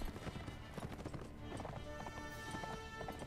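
Horse hooves beat in rapid clip-clop rhythm as cavalry rides in the medieval combat game Mount and Blade Warband, a busy, fairly faint patter of galloping with battle noise behind it.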